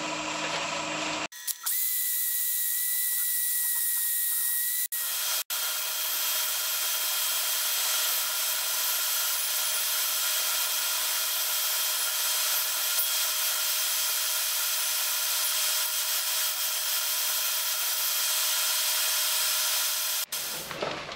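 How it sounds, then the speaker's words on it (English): A wooden lidded box spinning on a lathe while being sanded, giving a steady, loud, continuous whirring hiss that starts after a brief pause and runs unbroken for most of the stretch before stopping near the end. "We'll get sanding."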